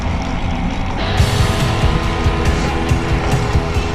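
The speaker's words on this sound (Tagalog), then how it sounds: "Gaganda ng mga sasakyan, no? Paikot-ikot lang sila dito." Cars run laps around the Yas Marina race circuit in Abu Dhabi, engines humming steadily close by with rhythmic low thumps, a constant rumbling drone without talk.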